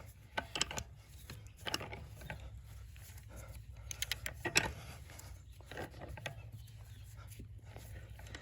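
A wrench clicks and ratchets while tightening a bolt on a pasture gate hinge outdoors, sharp metallic ticks in quick short bursts over a low background hum, fairly faint.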